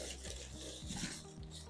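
Leaves and grit being stirred into worm farm bedding give a quiet, close scraping and rustling with a few soft knocks, steady for under two seconds.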